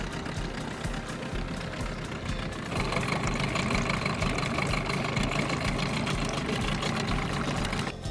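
A Mercury ME9.9 Light 169 cc outboard boat motor, Tohatsu 9.8 based, runs steadily during break-in at under half throttle near 3000 rpm. The drone is loud and continuous and rises slightly in level partway through.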